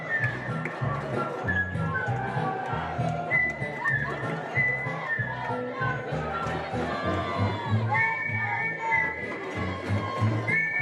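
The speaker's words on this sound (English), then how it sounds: "You can hear our FHS Mighty Fighting Jersey cheerleaders." A packed crowd and cheerleaders at a high school baseball playoff game keep up continuous chanting and shouting. Voices swell and fall throughout in a loud, busy wash.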